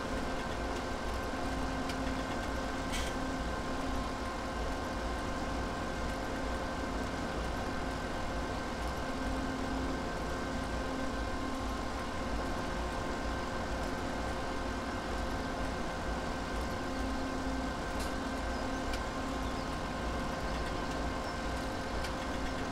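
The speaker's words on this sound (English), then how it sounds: "been using this tractor for hauling stuff mainly" A tractor engine runs in the Farming Simulator 17 video game, holding a steady, even drone with no pauses or talk.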